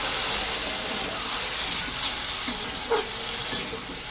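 Water poured into a hot pan after frying with salt and a couple of green chillies, giving a steady close hiss of steam that fades and flares in waves, with no talk over it.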